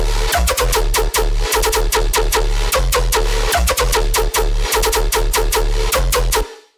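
A loud, dense music track with a punchy added snare transient and reverb, drums hitting in a steady rhythm over thick low bass before cutting off abruptly near the end.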